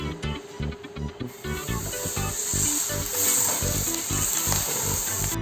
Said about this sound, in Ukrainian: Для приготування нам потрібно вершкове масло, яке ми розтоплюємо на сковорідку.